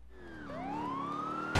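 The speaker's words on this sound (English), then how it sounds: "Oh, and the ambulance." An ambulance siren wails through a police-mod game intro, its tone sweeping up and rising steadily over about a second and a half, loud and alone, ending in a brief burst of noise.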